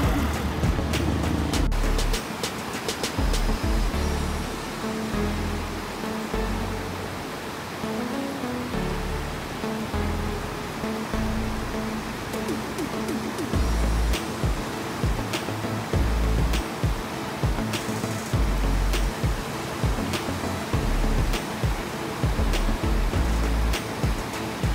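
Surf breaking at Long Hai beach in Vietnam, a steady loud wash of waves with rumbling low surges and repeated swells throughout, close by, with no talking.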